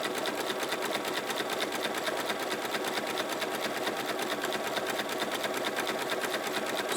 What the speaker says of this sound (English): So we just keep stitching.